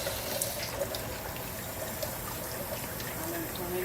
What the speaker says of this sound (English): And this is my cold water. And I'll just let it run in here.